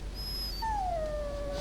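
A dog in the fantasy video game Dragon Age gives a single drawn-out whimper, a thin high whine that slides slowly downward and trails off, heard alone and fairly clear above a low background hum.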